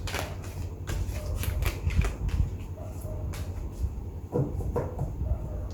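Tarot cards from a Rider Waite deck are shuffled in a quiet room, producing a series of soft riffling and papery slaps with short gaps, close to the microphone, with no voices.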